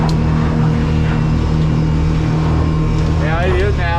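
Outboard motors on a 2021 Boat Doctor 2500 Stabi XL run steadily nearby in choppy conditions, a constant drone with someone speaking over it.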